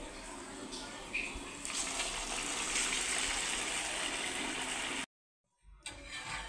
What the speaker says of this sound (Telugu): ఇప్పుడు వీటిని ఒక్కొక్కటిగా ఆయిల్లో వేసుకుందామండి